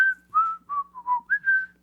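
A person whistles the opening phrase of "When the Saints Go Marching In", six clear sustained notes in a steady rhythm, close and alone against faint background hum.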